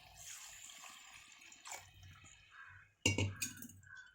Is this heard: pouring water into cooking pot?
yes